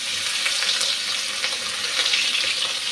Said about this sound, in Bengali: নুন হলুদ মেখে একটু চিংড়ি মাছটাকে ভেজে নিচ্ছি